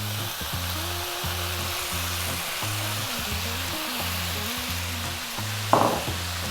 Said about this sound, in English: we're going to fry for 5 minutes. Stay on this high heat, keep it moving